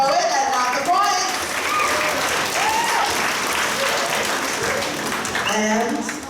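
An audience at a high school grade 11/12 spoken word poetry event applauds and cheers a poet after the scoring, a loud sustained wash of clapping with shouts and whoops rising above it throughout.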